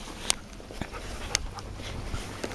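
Faint whimpers and small yelps come from a 4.5-week-old puppy, soft and intermittent against quiet background noise, with no talking.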